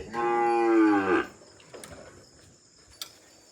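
A single cow lets out a long, loud moo, followed by quieter rustling and a few faint knocks in the background.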